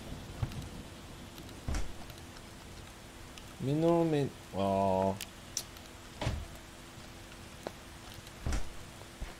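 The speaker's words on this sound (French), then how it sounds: "Voilà, le déluge." Heavy rain pours down in the video game Starbound, a steady hissing patter with occasional soft thuds, while someone speaks briefly in French over it.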